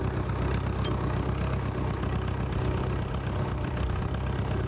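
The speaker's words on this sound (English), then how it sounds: "most of the noise a Fordson makes is transmission, because it's still there" Fordson tractor at a ploughing championship, fitted with a Perkins engine, with steady transmission whine and low mechanical engine drone running continuously at close range, broadband and even throughout.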